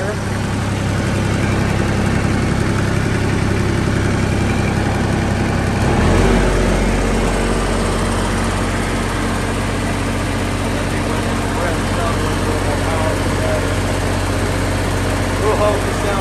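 A Miller Big Blue 300 Pro engine-driven welder, freshly serviced, starts and settles into a steady, loud idle in auto throttle, its low engine drone shifting after startup and holding constant to the end.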